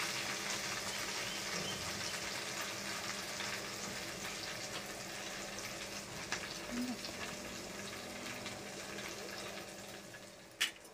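Pav bread heating in butter on a pan, a soft, steady sizzle, fairly faint and continuous, with a couple of brief knocks near the end and no clear speech.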